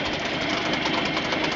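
A Mercury 5hp outboard motor runs steadily up close, a loud, even mechanical drone with a rapid ticking pulse and no voices.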